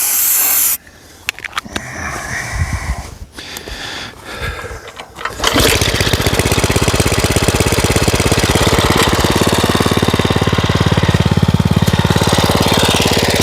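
A small gasoline engine, run dry and refilling its carburetor, sputters through a few uneven tries, then catches and roars into a loud, steady, rapid running drone close by.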